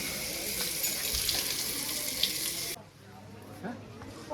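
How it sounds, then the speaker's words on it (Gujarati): A tap runs for hand washing at night: a loud, close, steady hiss of flowing water that cuts off abruptly near the end, leaving a few faint clatters and quiet background. "ચાલો હાથ ધોઈ"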